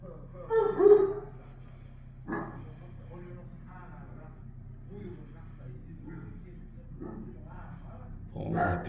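Dogs kept in a yard in Ashgabat bark near and loud in a few short bursts, near the start, a moment later and again at the end, with someone talking between the barks and faint traffic behind.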